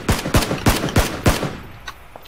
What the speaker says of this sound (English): I'm gonna shoot at the guy.